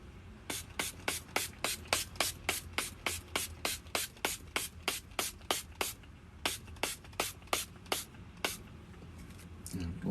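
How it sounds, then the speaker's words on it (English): A makeup setting spray pumped in a quick run of short, sharp hisses, roughly two dozen evenly spaced bursts with a brief pause partway through, close and clear with no talking. "So I find if you really want like a really reflective highlight, do your setting spray,"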